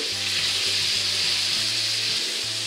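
Celery, white of leek and onion frying in a pan for a vegan pot pie give a steady, close hiss of sizzling that runs unbroken, with a soft low hum underneath and no voices.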